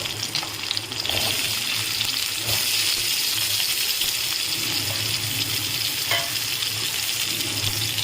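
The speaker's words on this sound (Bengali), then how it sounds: "এই তেলেই আমি আলুটাকে ভেজে তুলে নিচ্ছি" Potato pieces fry in hot oil left from frying prawns, producing a dense, continuous bubbling sizzle with occasional light clinks of a utensil against the pan.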